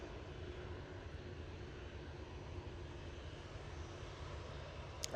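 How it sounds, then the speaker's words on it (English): A Pilatus PC-12 turboprop descending to land at Manchester Airport, a steady, moderately distant engine drone that holds at an even level throughout, with a faint brief knock at the very end. "And this PC12 is coming down right in front of us."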